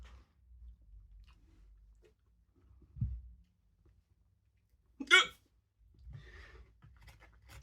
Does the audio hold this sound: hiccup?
yes